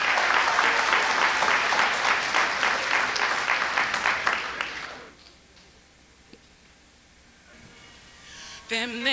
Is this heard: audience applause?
yes